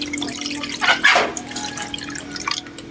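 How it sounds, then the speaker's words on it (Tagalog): Water splashes and drips close by as it is poured into a cooking pot with garlic and tomato, a short burst of pouring in the middle and scattered small drips around it, no speech. "Lalagyan natin ng konting tubig."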